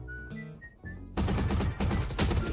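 Rapid gunfire rattles out in the Valorant shooter game, a dense, loud burst of automatic shots following a few quieter tones and whistles at the start.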